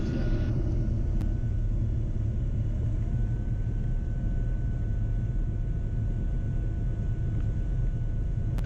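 A Cirrus SR22T Gen 6 piston airplane engine taxiing after landing at San Carlos, a steady loud low rumble and drone held throughout with a faint whine riding on top.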